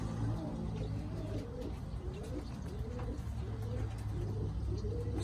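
Roller pigeons coo in a loft with nest boxes, a repeated soft rolling coo several times over a few seconds amid steady background noise.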